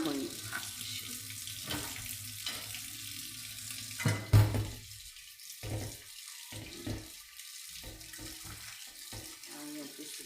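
A kitchen tap runs water while a pan is rinsed out. The steady splashing flow comes with clanks and knocks of the pan, and the water cuts in and out toward the end.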